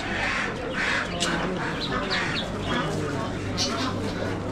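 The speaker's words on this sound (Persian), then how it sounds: "اردک و غاز" Ducks and geese at a poultry market in Rasht bazaar, Gilan, Iran, quack and honk in short, scattered calls. The calls sit over a constant crowd murmur and indistinct voices nearby.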